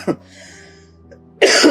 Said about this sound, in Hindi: देखिए खांसी हो रही है मुझे